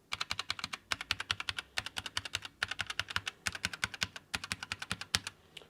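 Typing on a MARVO KG962 60% mechanical gaming keyboard produces rapid, crisp, close clacks in uneven bursts with brief pauses, loud and alone.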